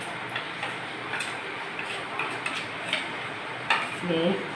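A spoon stirs a face scrub of puttu flour and milk in a bowl, giving soft repeated scraping and light clinks at close range, with a louder knock near the end.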